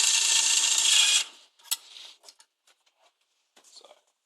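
Screws are driven into a PureSilk test analyser assembly. A power driver gives one loud, close whir of about a second, followed by faint clicks and light handling taps.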